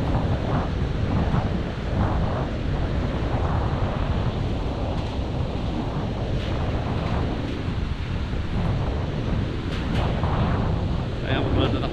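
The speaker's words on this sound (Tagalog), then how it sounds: "Pas mahangin." Strong wind buffets the microphone on a high, swaying footbridge near Buscalan, a steady roaring rush that stays loud and constant throughout with no clear talk above it.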